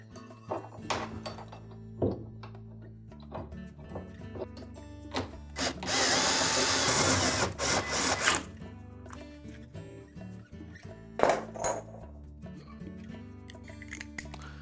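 Retaining bolts on a Whirlpool washer's tub support tightened with a power tool: a steady two-second whirring burst in the middle, framed by scattered metallic clicks, clunks and handling noises at close range.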